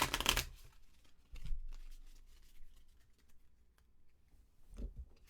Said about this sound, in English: All right, let's do a quick shuffle here.